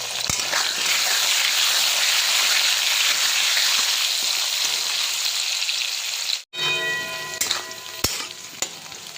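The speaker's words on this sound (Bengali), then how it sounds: "আলু ভাজা হয়ে গেছে" Potato pieces seasoned with salt and turmeric sizzle and fry steadily in hot oil in a pan, a loud continuous crackle with occasional stirring, then a short pause and quieter popping as they finish.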